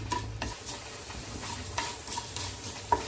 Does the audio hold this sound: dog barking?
no